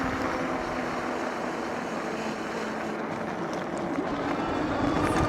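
A Hovsco HovAlpha electric bike motor working hard while climbing uphill at full throttle, a steady loud whirring drone mixed with rushing wind noise that holds constant throughout.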